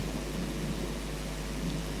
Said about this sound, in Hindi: तभी बहुत तेज बारिश होने लगती है